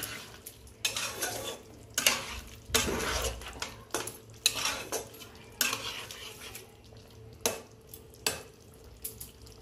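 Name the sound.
stirring sugar into vegetarian cauliflower curry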